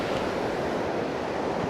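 Steady sea waves surge and wash continuously onto the beach at Barangay Bongbong, Pantukan, Davao de Oro, with a soft wind rush over the shore and no voices.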